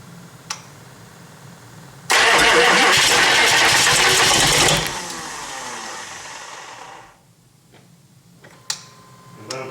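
A 6.5 diesel engine with freshly cleaned and installed injectors cranks and fires in a roughly 45-degree garage, a loud roaring burst that settles into a quieter, uneven idle before fading, with a few clicks around it.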